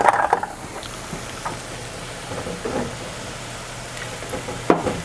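Donuts frying in oil give a steady, fairly loud sizzle with occasional clinks and bumps of utensils against the pot.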